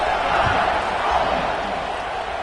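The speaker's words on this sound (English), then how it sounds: "this crowd is buzzing after that last score" A college football stadium crowd keeps up a steady roaring buzz after a score, with dense, continuous noise holding level across the whole stretch and no clear individual voices standing out.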